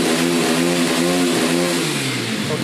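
A YCF motorcycle engine revs hard and loud close by, its steady high-pitched roar holding for a couple of seconds before the pitch sags slightly toward the end.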